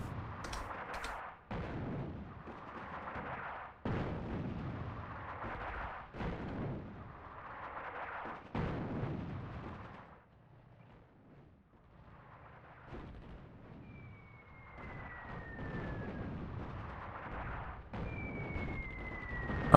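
Airstrike explosions in the North Africa war game Attack at Dawn sound as a series of sharp booms landing every couple of seconds, each fading into a rumbling tail, with quieter gaps and a faint whistling tone drifting in later.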